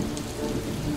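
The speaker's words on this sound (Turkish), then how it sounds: "Dışarıda resmen bardaktan boşalırcasına yağmur yağıyordu." Heavy rain pours down outside a palace during a stormy night, a steady, close, dense wash of drumming drops that never lets up.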